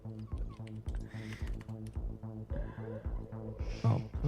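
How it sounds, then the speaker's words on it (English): Steady, quiet clacking of keys on a computer keyboard that is malfunctioning after water was spilled into it, a rapid run of taps with faint background voices and hum. "My keyboard's fucking up because I dropped some water in it before."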